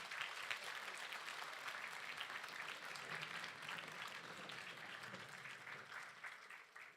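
An audience at a Hong Kong forum gives a speaker a sustained round of applause. The clapping is dense, even and fairly distant, and it holds steady for several seconds with faint murmuring underneath.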